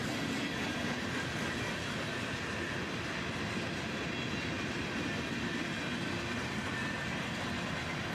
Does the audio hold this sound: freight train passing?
yes